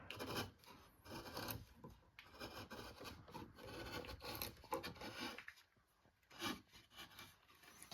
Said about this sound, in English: I gotta use my chisels, come across a little bit.